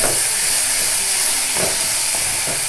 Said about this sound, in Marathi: चांगला गुलाबी होईपर्यंत चांगला असा परतून घ्यायचा कांदा